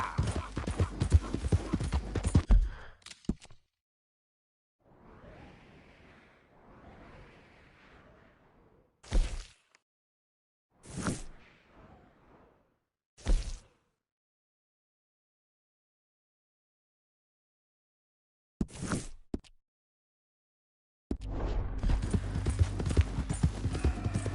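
A horse in Red Dead Redemption 2 gallops with loud, rapid clip-clop hoofbeats at the start and end, broken by quiet stretches holding a few sharp isolated hits and soft whooshing movement.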